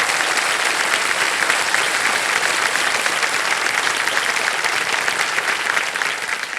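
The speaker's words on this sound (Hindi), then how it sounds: "बहुत बहुत बधाई, तालियां बज जाए इनके लिए।" Studio audience applause on a televised quiz show, a dense, loud, continuous roar of many clapping hands sustained throughout, with no one speaking over it.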